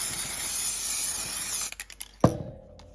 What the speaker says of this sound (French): moi j'utilise la colle Cléopâtre en spray spécial tissu